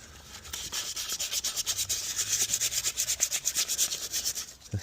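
Emery cloth is rubbed by hand against a vintage BMC Mini Nuffield tractor wheel, a close, rhythmic rasping scrape repeating in quick even back-and-forth strokes with no talk.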